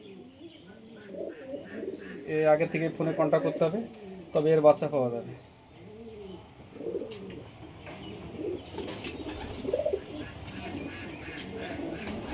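Madras pigeons kept by an old pigeon fancier coo in short bursts close by, mostly under someone talking, with other birds and yard noise behind.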